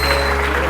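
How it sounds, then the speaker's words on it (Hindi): Studio audience applause on a TV morning show, a brief dense burst of clapping with no voices. "बहुत सारी तालियां इनके लिए।"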